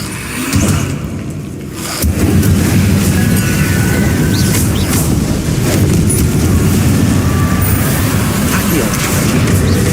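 An Incendio fire spell blast in the game Hogwarts Legacy, a loud roaring burst that holds as a sustained rumbling whoosh with crackles over it, starting after a short quieter lead-in.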